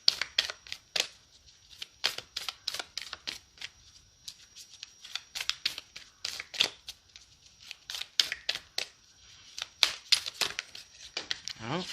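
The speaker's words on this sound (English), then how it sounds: "let's shuffle for your answer" Tarot cards shuffled by hand in a card-reading session, giving rapid bursts of papery riffling and flicking that repeat irregularly throughout, fairly close and clear with no talk over them.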